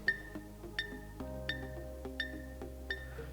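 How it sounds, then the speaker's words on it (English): A standard metronome app ticks steadily, five sharp bright clicks roughly 0.7 seconds apart, near and clear over a faint low hum. "download a very standard metronome app"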